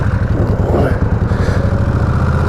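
A 1500cc motorcycle engine on the move gives a steady, heavy low rumble with a constant throb, loud and close, and no voices over it.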